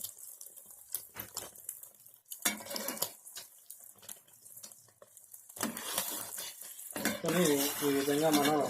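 Beaten egg mix is stirred in an oiled pan with scattered utensil clatter and scraping, then a louder sizzle builds; a voice speaks briefly near the end.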